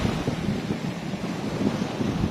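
Strong wind buffets the microphone over a continuous roar of surf breaking on a sandy beach at high tide in rainy weather, loud and steady with no voices.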